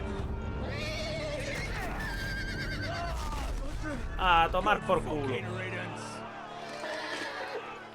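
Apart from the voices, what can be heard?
horse neighing in a Game of Thrones video game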